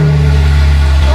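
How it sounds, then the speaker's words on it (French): A 2022 BMW M3 Competition inline-six starts up and settles into a loud, steady low idle through Akrapovic carbon-fibre exhaust tips with the valve closed, close by and alone. "Le son du moteur 6 en ligne n'est pas le plus beau généralement."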